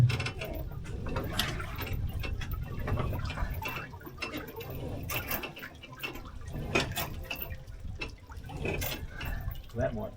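An outboard engine on a boat is cranked upward with a ratchet lift, giving repeated clicking pawl and gear sounds over trickling, dripping water, with voices talking faintly in the background.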